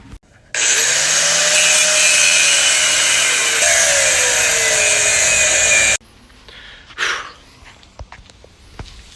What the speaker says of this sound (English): now I'm just gonna grind it down some more, clean it up, make it look a little nicer